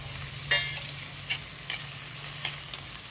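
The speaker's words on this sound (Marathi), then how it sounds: "हा टोमॅटो सुद्धा आपल्याला परतवून घ्यायचा आहे" Tomatoes and fresh peas stir-fried in a pan for masala rice, giving a steady soft sizzle with a few light scraping clicks of a spoon against the pan, close and alone.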